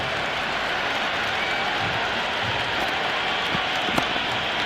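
A stadium crowd in the cricket video game Cricket 26, during an India versus Australia match, keeps up a loud, continuous roar with scattered clapping and brief sharp accents.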